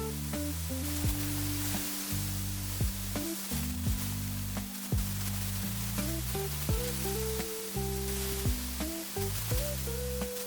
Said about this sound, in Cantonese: 我哋加返少少油，煎香啲排骨。